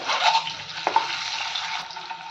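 Turmeric, chilli powder and garam masala being stirred into a hot pan of egg masala, giving a steady soft sizzle with a couple of brief scraping strokes, close and alone.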